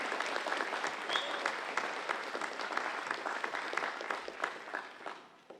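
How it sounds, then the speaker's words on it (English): An audience at a 2020 graduation ceremony at McGuire Campus claps steadily. Dense, sustained applause carries for several seconds before thinning out toward the end. "give a round of applause for all of our 2020 graduates"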